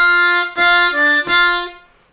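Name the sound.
Bb harmonica lick number 7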